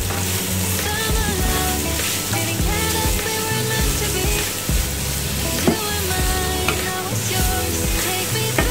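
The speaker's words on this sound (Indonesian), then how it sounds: "Kita tumis." Carrots sautéing in a hot pan for a spicy vermicelli-filled panada, a loud continuous sizzle with scraping stir strokes, close up and with no talking.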